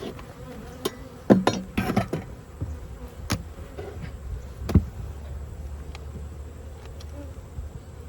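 Honey bees buzz around a hive fitted with a fresh bottom board, their close, intermittent drones rising and fading over a low background hum, with a few sharp clicks and knocks.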